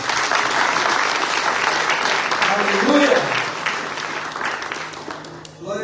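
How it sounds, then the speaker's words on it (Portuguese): A church congregation claps loudly and steadily throughout, a dense wash of applause with a voice calling out briefly over it near the middle. "Dê um aplauso ao Espírito Santo."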